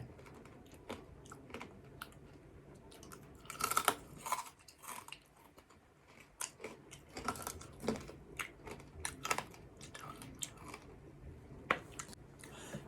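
Someone chews crispy baked vegetable chips close to the mic. Quiet, hard crunches come in irregular bursts of bites and chewing, spread over several seconds with brief pauses.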